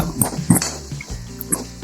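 Water poured into a potato and broad bean curry, a short burst of splashing and liquid gurgles with a few clinks, close and fairly loud.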